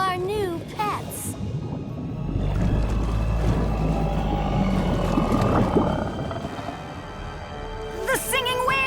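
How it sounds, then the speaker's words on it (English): Singing whales in a Winx Club cartoon letting out eerie rising and falling calls over a rumbling, watery bed, loud and close. "The singing whales! They've enchanted them!"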